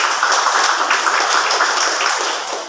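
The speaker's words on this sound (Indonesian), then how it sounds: "boleh tepuk tangan" Audience at an education foundation work meeting applauding, a steady dense patter of many hands filling the whole stretch at fairly even loudness, with no voices over it.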